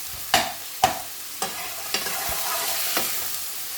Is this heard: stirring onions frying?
yes